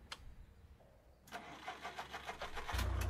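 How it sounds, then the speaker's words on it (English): A car engine in the Survive the Nights video game cranks and catches after a brief pause, then runs with a rough, pulsing idle that grows louder into a deeper rumble at the end. "I have a car now."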